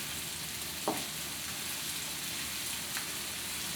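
Onions frying in a wok for shrimp fried rice, a constant dense sizzle close by with a couple of faint clinks of stirring, no talk.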